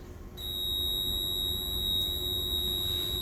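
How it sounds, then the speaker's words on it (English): Interconnected smoke alarm units sounding together, a continuous shrill, high-pitched electronic tone held close and loud for about three seconds. "we're going to hit this button to make all the beeping stop"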